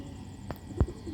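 Sialkoti pigeons of the Ali Wale line give a couple of short, low coos, one faint and a stronger one just after, close by against a quiet background hum.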